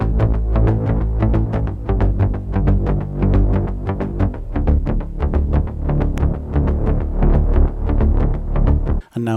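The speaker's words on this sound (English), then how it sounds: "we have the bass group. It is made up of an instance of Hive, an instance of Dune 3," A layered synth bass group built from Hive, Dune 3 and Omnisphere throbs in a dense, steady rhythmic pattern of punchy, growling pulses, loud and continuous until it cuts off abruptly near the end.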